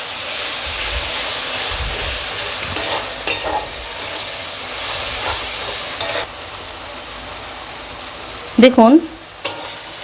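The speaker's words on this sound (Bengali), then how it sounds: "এবার ওর মধ্যে আদা রসুন আর কাঁচা লঙ্কার পেস্টটা দিয়ে দেবো, দিয়ে এবার ভালো করে কষাবো।" A paste of ginger, garlic and green chilli fries with browned onions for a sardine fish curry. A steady sizzle runs under scraping stir strokes, and a voice briefly speaks near the end.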